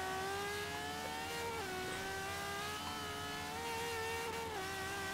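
A Ferrari 599XX race car's engine held at full throttle in the racing game Forza Horizon 3, a steady, buzzing high-revving drone with small pitch dips as it shifts, heard alone at a moderate level.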